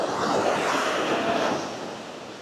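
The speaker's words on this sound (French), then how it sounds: "Il y a quand même des belles vagues, hein." Waves break at a surf spot as a steady, broad wash of surf rolls on for a couple of seconds, fairly loud and without pauses.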